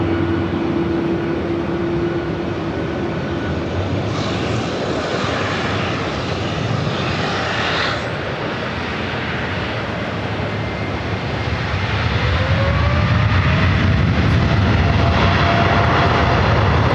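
Jet engines of Delta 802 roar loudly and steadily on runway 24 left, a broad continuous rumble that swells near the end, with no talk.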